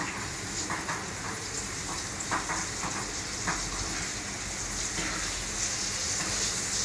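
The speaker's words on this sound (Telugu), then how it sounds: "పప్పు నూనె కదా, నూనె పొంగుతుంది." Peanut oil frothing and sizzling in a pan while a tomato pickle is made, a continuous close hiss with faint crackles and no talk.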